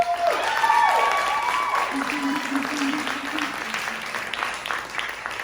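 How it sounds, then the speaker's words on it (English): An audience at a ten-year celebration of theater and performance gives a round of applause. The clapping is dense and continuous, loudest at the start, and a voice speaks over it. "Can we give him a round of applause?"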